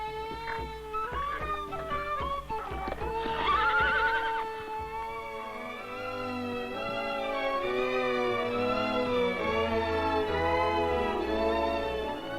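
Irish horses neighing loudly and close, long shrill whinnies rising and falling one after another, with a few faint hoof clip-clops near the start.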